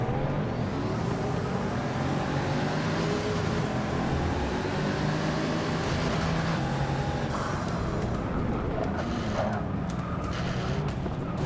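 A 2012 Pagani Huayra and other race cars launching at the start of a race at Spa in Forza 6 Apex: a dense, continuous roar of engines rising in pitch through the gears.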